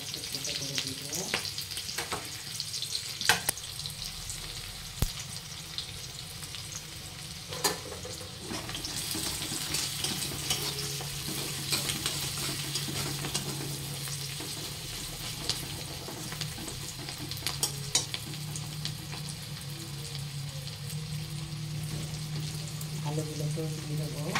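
Onion, chili and garlic sizzle steadily in a pan while being stirred, with scraping spoon clatter and a running tap in the background, a home kitchen sound lasting throughout.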